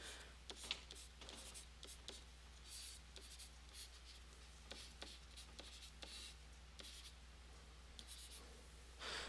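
Pen or marker scratching across a board or paper while a chemical reaction is written out, a steady run of short strokes and taps, close and fairly quiet over a low steady hum, with no talking.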